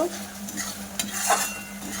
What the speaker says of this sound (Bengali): এবার মশলাটা বেশ ভালো ভাজা করে নেব